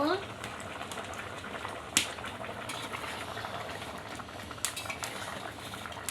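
Hilsa fish curry bubbles in a pan while a metal spoon stirs it, with a couple of sharp clinks against the pan over steady simmering and a voice talking.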